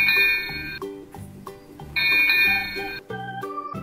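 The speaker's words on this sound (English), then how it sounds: "Hey, George is going to test out the bell here." A ship's bell rings aboard Grandpa Pig's boat in a Peppa Pig cartoon, a bright repeated ding over a bouncy cartoon music bed, loud and close.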